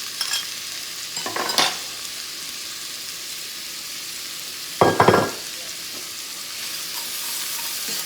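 One medium onion fries in a pan with a constant crackling sizzle, broken by two louder scraping bursts as it is stirred.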